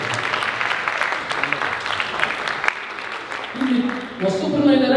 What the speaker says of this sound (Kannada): ಒಂದು ಜೋರ ಚಪ್ಪಾಳೆ ಸ್ಪಾನ್ಸರ್ಸ್ ಕೊಡಲೇಬೇಕು.